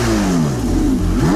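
A Porsche 918 Spider hybrid, with a 4.6-liter V8 and two electric motors, gives a loud, close engine rev whose pitch swings down and back up in a quick burst.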